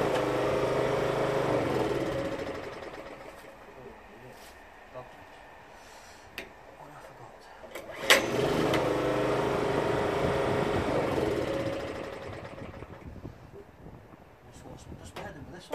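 A Performance Power 780 two-stroke generator engine runs unevenly, its buzzing drone rising and falling and dropping away between attempts, with a voice talking over it.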